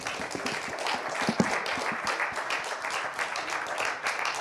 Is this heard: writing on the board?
no